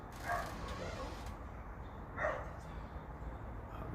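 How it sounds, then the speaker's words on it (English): A dog gives two short yips or whimpering barks about two seconds apart, muffled and fairly distant indoors over steady background noise. "The dog was coming out."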